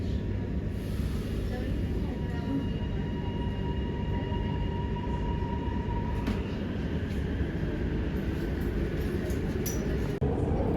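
A Melbourne metro train rumbles steadily just after pulling out of the station, heard from inside the carriage as a continuous loud roll with faint clinks and murmured voices.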